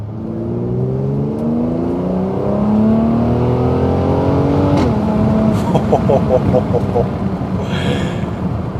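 A 2018 Mercedes-AMG GLC43 engine revs up through rising gears, then a sharp pop cuts through, followed by crackling bursts as the throttle lifts.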